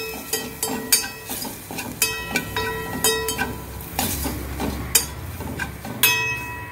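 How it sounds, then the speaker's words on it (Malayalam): Chilli powder being stirred into a ginger curry in a pan, with repeated close clinks and scrapes of a spoon against metal in an uneven rhythm over a faint sizzle. "നന്നായിട്ട് ഇളക്കുക."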